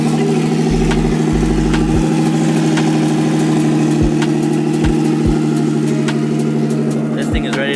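A Hellcat sits idling between test passes, a loud steady low engine rumble with a deep throbbing tone, a few low thumps underneath, and some voices talking over it.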